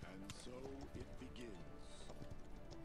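Rhythmic clip-clop of horse hooves while riding a horse in a video game, heard under someone talking and game sounds.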